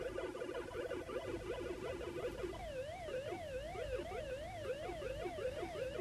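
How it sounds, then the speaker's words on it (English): A warbling electronic siren loops in the background of Pac-Man on the Intellivision console, rising and falling in rapid regular sweeps that shift to a higher, faster pattern partway through, with no talking over it. "And that sound in the background, that little siren noise, that's in the arcade."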